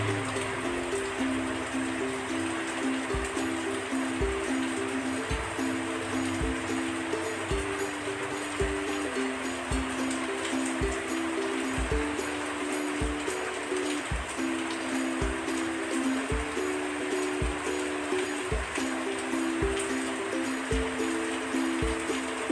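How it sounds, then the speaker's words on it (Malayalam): Mustard seeds, fenugreek, urad dal and pepper frying in oil in a kadai, a steady close sizzle and crackle with a rhythmic series of soft knocks from stirring throughout. "ഒരു കടായിൽ എണ്ണയൊഴിച്ച് നമ്മൾ എടുത്തു വെച്ച കടുക്, ഉലുവ, ഉഴുന്ന്, കുരുമുളക് ചേർത്ത് നന്നായി ഇളക്കി കൊടുക്കുക."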